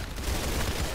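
Gunshots in a Roblox video game come as a quick, rapid burst of shots, close and fairly loud, lasting only a moment.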